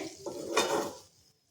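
Dhaba-style malai paneer curry being scraped from the cooking pan into a serving vessel: a brief, quiet burst of metal-on-metal scraping and clinking that fades away to silence.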